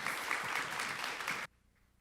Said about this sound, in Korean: 우리 이정희 목사님 격려의 박수, 하나님께는 감사의 박수 올려드리겠습니다